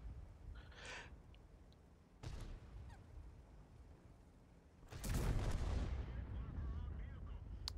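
Tank cannon fire in World of Tanks on the Karelia map: a distant crack early on, a sharper report near two seconds, then a loud heavy boom at five seconds that rumbles and fades.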